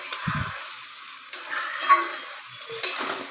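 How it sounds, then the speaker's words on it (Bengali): Chicken sautéing with shahi garam masala in a pan, a soft close sizzle with a few light stirring scrapes and clinks, no voices. "শাহি গরম মশলা দিয়ে কষাচ্ছি"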